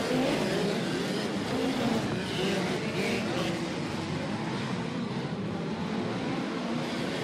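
Midget race cars roar around a dirt track at Port City Raceway in a steady, dense engine drone, several cars blending into one continuous loud roar with no gaps.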